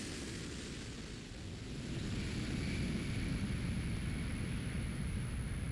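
A Boeing 747 Shuttle Carrier Aircraft carrying the Space Shuttle Discovery lands on a runway at Kennedy Space Center, a broad, continuous jet roar heard from a distance that grows louder partway through and then holds steady, with no voices.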